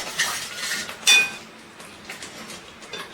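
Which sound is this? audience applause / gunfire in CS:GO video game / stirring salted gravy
stirring salted gravy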